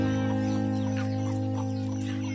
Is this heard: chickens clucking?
yes